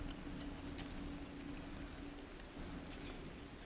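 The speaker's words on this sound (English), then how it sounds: "Yeah, it never stops raining here." Steady rain ambience plays as background for a tabletop roleplaying session set in an unending storm, a faint continuous patter of drops on a surface with no other sounds.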